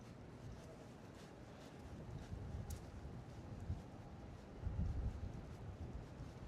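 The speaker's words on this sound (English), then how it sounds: "Wish it was a little less windy." Low, steady wind buffets a microphone with a soft rumbling roar that swells briefly, and no one speaks.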